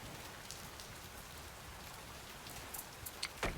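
Rain in the Oceaneers survival game on a flooded waterworld falls as a faint, steady patter, with a few sharper drops and taps near the end.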